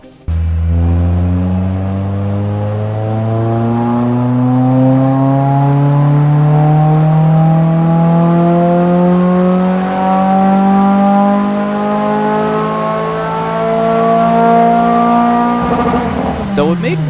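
Toyota MR2 with a swapped 2.5-litre dual VVT-i 2AR four-cylinder from a RAV4, chambered muffler, revving up on a dyno: a loud, steady engine note climbing smoothly in pitch over many seconds, then dropping off sharply at the end.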